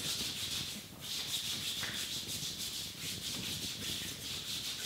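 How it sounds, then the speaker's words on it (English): Hands briskly rub over the body, thighs and arms during a yoga kriya, making a continuous soft, close swishing friction with brief pauses between strokes. "just begin to rub your body, rubbing your thighs, your arms."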